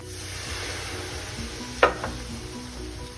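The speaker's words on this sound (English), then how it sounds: "I'm gonna add just a little bit of stock." Stock poured into a hot skillet of browning onions for a Creole lentil and okra stew, a steady close sizzle with a sharp hiss and clatter as the liquid hits, then continued frying.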